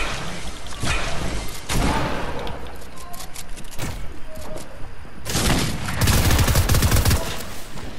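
Video game gunfire in bursts of dense, fast shots against a steady background bed, with a heavier sustained volley near the end.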